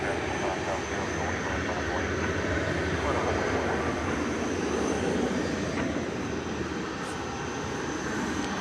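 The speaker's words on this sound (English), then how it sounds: "There's the front end of an Airbus A300, sorry, Airbus A300." UPS Airbus A300, about 20 years old, at a busy airport at night, giving a steady broadband jet roar that holds constant and fairly loud throughout, with a faint high whine on top.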